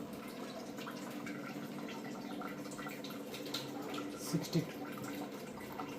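Water runs steadily from the outlet of a budget water purifier, a soft continuous trickle and splash with a couple of brief louder drips near the end.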